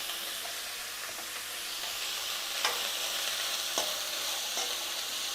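Ingredients for a flattened-rice (aval) breakfast sauté with turmeric and salt in a pan, making a steady close sizzle throughout with a few faint stirring scrapes. No one speaks.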